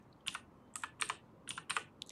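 Quiet, crisp clicks from a computer keyboard as a console command is typed for a game, arriving in small bursts of keystrokes with short pauses between them.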